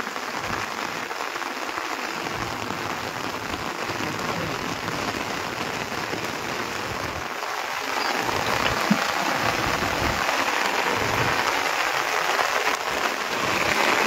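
Heavy rain pours on a small wooden fishing dinghy off the Bay of Bengal coast: a dense, constant hiss of drops hitting water and the boat, steady and loud throughout, swelling slightly in the second half.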